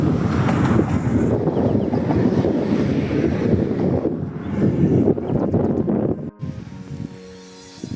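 Sea waves breaking along the shore at Jūrmala on the Baltic coast, a loud, continuous wash of surf mixed with heavy wind buffeting the microphone, dropping off abruptly near the end.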